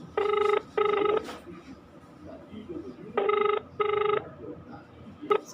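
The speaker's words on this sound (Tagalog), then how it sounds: "tatawagan po natin O, ito, nagre-ring." A phone call rings out with repeated electronic double-ring bursts, two pairs separated by a pause and a third starting at the end, clear over quiet background noise while a farmer waits for SL Agritech Corporation in Talavera to answer.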